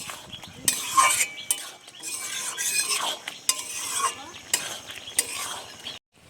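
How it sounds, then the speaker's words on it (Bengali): Fried ridge gourd and potato with chili powder stirred in a pan, a spoon scraping and clinking against the metal in irregular strokes over a soft sizzle. "কিছুক্ষণ পরে বেশ সুন্দর করে এভাবে নেড়ে চেড়ে নেব"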